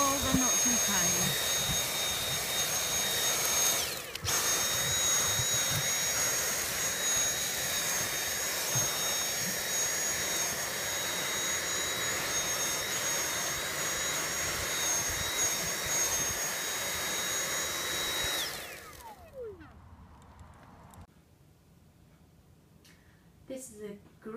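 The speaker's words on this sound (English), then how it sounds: "This is a great lightweight Hoover that will probably replace your main big Hoover, corded, electric." A Dyson V8 Absolute cordless vacuum cleaner runs with a steady high whine and airy rush for most of the stretch, then switches off and spins down, leaving quiet handling noises.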